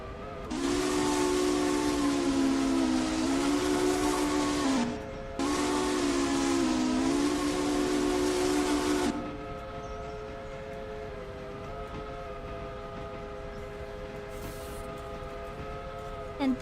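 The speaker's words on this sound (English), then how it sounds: "it's actually pretty nice to be able to hear the train whistles from a distance" In the railway game Railroader, a steam locomotive sounds two long, loud whistle blasts separated by a short gap, followed by a quieter, steady hissing tone.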